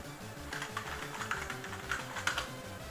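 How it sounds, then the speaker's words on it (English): Typing a name on a computer keyboard while installing Windows 3.11 and Windows 95, with close, quick clicking keystrokes in an irregular patter, a few louder key hits standing out, no speech. "Type in the name."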